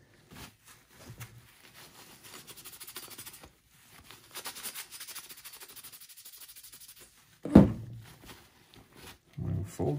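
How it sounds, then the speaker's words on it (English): A cloth wipes old, bone-dry thermal compound off the CPU of a Lenovo ThinkCentre M93p desktop. Quiet, scratchy rubbing strokes come in short, irregular passes, broken by a few sharper handling knocks. "I'll do is I'm gonna wipe down the thermal compound"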